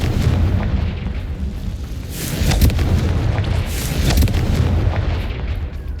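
Confringo spell explosions in Hogwarts Legacy: a sustained barrage of loud, rumbling blasts and crackling bursts, with two stronger impacts rising out of the continuous low roar, close and dense.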